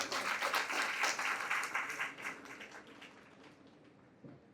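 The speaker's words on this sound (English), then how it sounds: "Can we have a great round of applause?" A round of applause from a parish congregation at a St Thomas Day celebration, dense crowd clapping loud for about two seconds, then thinning and fading to scattered claps.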